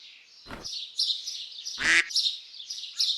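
A duck gives two short, loud quacks about a second and a half apart, over steady high bird chirping in the background.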